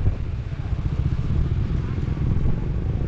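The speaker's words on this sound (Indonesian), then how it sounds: "Oh, motor kat sana." Motorcycle on a beach road near the sea at Sekinchan, a steady low engine rumble running throughout at close range, with wind noise and a voice speaking over it.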